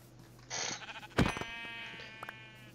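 A sheep in Minecraft bleats twice, struck with a stone axe in the game, the sharp close bleats standing out over a faint steady background tone with no talk.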